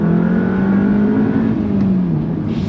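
A modified Audi S1 with its exhaust resonators deleted revs hard, its loud, steady engine drone holding close and sliding slightly lower in pitch near the end.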